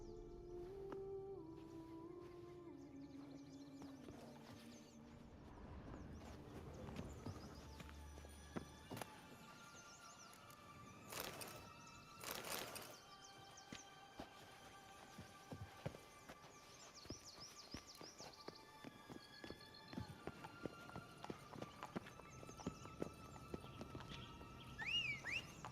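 Hooves of Roach, Geralt's horse in The Witcher 3 game, clip-clop steadily at a walking pace over soft in-game music and ambience, moderately near and never loud.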